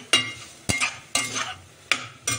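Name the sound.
sautéing spring onions in hot oil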